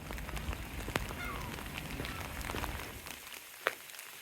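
Rain pours down at a back beach, a dense steady patter of drops hitting surfaces close by, with a few sharper splats and taps breaking through the even hiss.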